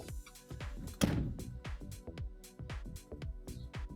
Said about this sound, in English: Let's close the door, see if that does it.